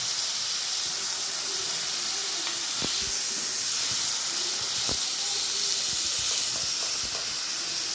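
Tomatoes sauté in a hot pan, a steady close sizzle and hiss throughout, broken by a few soft stirring knocks.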